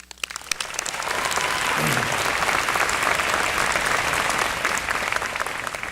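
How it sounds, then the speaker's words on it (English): Sustained, loud audience applause fills a high school graduation ceremony for the Santa Susana High School Class of 2022, rising quickly and holding steady as a dense wash of clapping with no speech. "and that deserves a round of applause"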